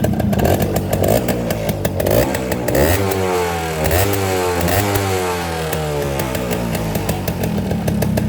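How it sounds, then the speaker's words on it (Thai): A used motorcycle's small engine runs steadily and loudly up close, its buzzing idle rising and falling with a throttle blip partway through, with no talk. "เครื่องยังเงียบอยู่ เครื่องเงียบมาก สตาร์ทง่ายแก๊สเดียวติดเลย"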